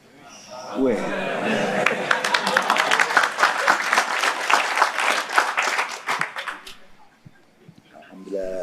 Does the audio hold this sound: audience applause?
yes